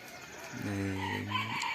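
A rooster crows once, a loud drawn-out call with a strong harmonic tone, close by against a faint background hiss.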